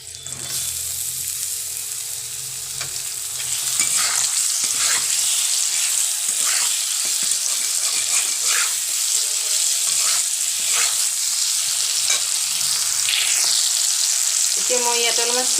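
Chopped tomatoes sizzling in hot oil in a pan with potatoes and spices for an omelette curry, a steady crackling fry with a soft scraping stir now and then.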